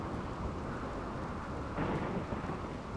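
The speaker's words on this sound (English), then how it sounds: "Man, you're brave going out in this thunderstorm." A thunderstorm in the video game Rimworld rumbles with low rolling thunder under a constant wash of rain and wind, swelling slightly partway through.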